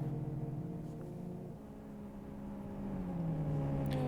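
Racing car engine at full revs in the Live for Speed racing game, a steady high-pitched sustained drone with shifting harmonic tones, loud and continuous with no talk.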